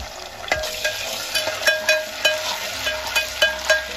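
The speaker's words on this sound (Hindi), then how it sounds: "इसे प्याज के साथ लाइटली ब्राउन करेंगे" Ginger garlic paste frying with onions: steady sizzle in a pan with repeated light scrapes and taps of a spoon stirring, close and moderately loud, no voices.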